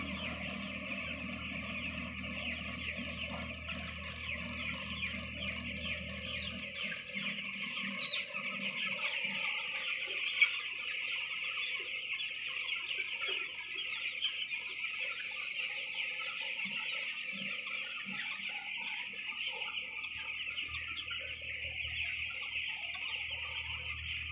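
Chickens cluck steadily in a broiler farm shed under contract farming, a dense chorus of many birds filling the space throughout, with a low mechanical hum in the background at the start and end.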